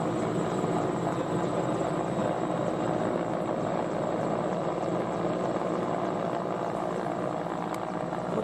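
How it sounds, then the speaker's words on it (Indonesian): A helicopter circles overhead above a burning oil palm plantation, its rotor and engine giving a loud, steady, droning roar that fills the clip without a break. "Helikopternya putar-putar menghormati kami di bawah sini"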